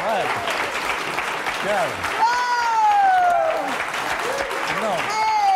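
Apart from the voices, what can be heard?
studio audience applause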